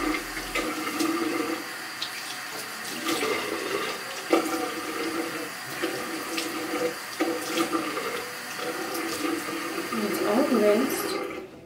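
Water runs into a sink as a face is rinsed, a moderate steady flow broken by small splashes and gurgles, fairly close.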